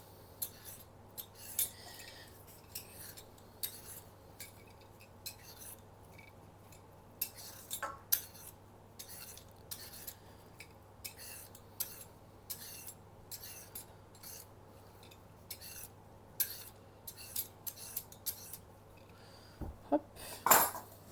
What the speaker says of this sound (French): on va trancher le concombre et on va râper les carottes